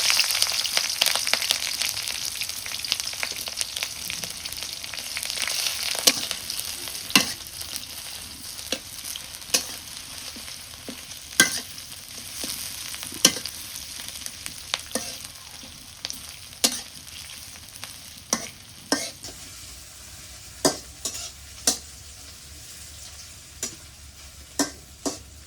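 Chopped onion with bay leaf frying in oil, a steady close sizzle punctuated by repeated sharp scrapes and taps of a spoon stirring the pan, no voices.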